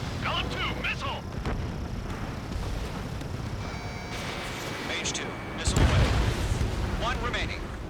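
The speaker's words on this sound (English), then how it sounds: "Mage 2, missile away." Missile launches and explosions in the Ace Combat 7 jet combat game, with a steady roar of jet engine noise, a tone sounding midway, then a loud booming blast near the end, with radio voices talking over the action.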